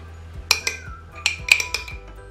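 Spoon and glass jars clink sharply as hot homemade kumquat jam is ladled into them from a pan, with several separate knocks spaced irregularly and no voices.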